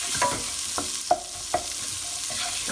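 Onions coated in garam masala spice blend are stirred in a frying pan, with a continuous sizzle underneath and several sharp spoon taps and scrapes spaced out against the pan.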